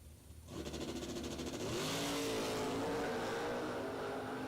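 Drag race cars, one of them a Camaro, launching off the line: a sudden engine roar bursts in after a brief lull, then holds loud and steady as the cars accelerate away.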